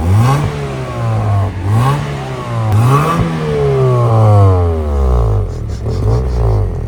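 A rebuilt Honda Civic engine revs up and down repeatedly at close range, loud swelling pitch sweeps that rise and fall in waves before settling toward idle.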